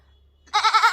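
A human voice imitates a goat bleating: one close, loud, quavering bleat with a pulsing tremolo that bursts in after a near-silent moment with faint low hum.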